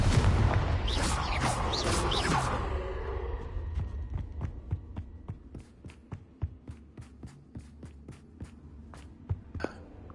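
Confringo and Bombarda spell explosions in the Hogwarts Legacy video game: a loud opening blast rolls into a rumbling tail, followed by a scattered series of sharp, close pops and thuds that fade in loudness.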